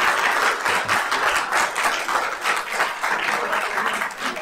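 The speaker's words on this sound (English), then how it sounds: "Round of applause for everyone." A round of applause from the audience at a council meeting, dense, sustained clapping filling the room at moderate volume throughout, with no talking over it.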